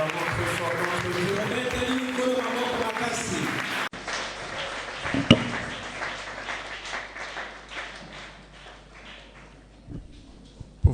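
A church congregation claps and cheers loudly for God, a dense sustained wash of applause mixed with voices and singing, continuing for several seconds at steady strength.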